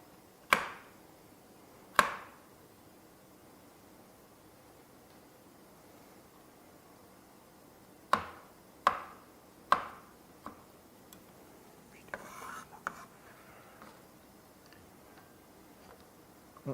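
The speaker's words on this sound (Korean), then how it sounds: "이 태양처럼 생긴 당근을 이렇게 잘게 자르고 있습니다." A knife chops a carrot finely on a cutting board during a pasta-making class, giving sparse, sharp knocks: a couple of isolated strikes, then a quicker cluster of several, in a quiet room.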